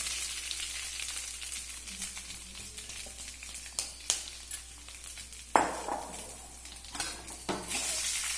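Idli pieces with curry leaves being stirred in a frying pan: a soft, low sizzle broken by a few sharp scrapes and knocks of the spoon against the pan, quiet and close, with no voices.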